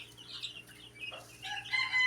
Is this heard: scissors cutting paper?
no